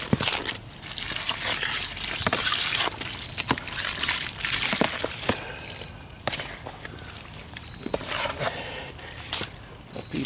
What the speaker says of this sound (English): Put it in there, then add the water I mixed up, and mix it up into a paint.